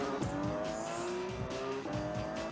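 A road-legal car laps a race track, its engine droning loudly and steadily with shifting pitch as it accelerates and brakes, tires squealing briefly through corners, no voices.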